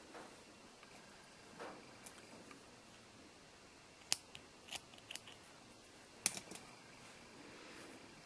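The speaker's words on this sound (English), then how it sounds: "I'm just going to snip that bit of yarn off, it's in the way." Scissors snip through a strand of yarn during crochet work, giving a few quiet, sharp clicks spread apart at a moderate distance with no talking.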